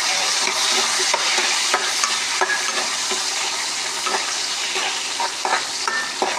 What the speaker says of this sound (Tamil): அதோடு சேர்த்து நம்ம வத்தல் போட்டோம், கருவேப்பிலை போட்டுடலாம். எல்லாத்தையும் நம்ம வதக்கிடுவோம்.